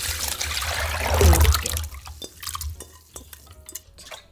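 Raw rice washed in cold water for rice gangjeong, the grains swished and rubbed in a bowl: a loud sloshing swirl early on, then softer drips and trickles fading out, with no voices.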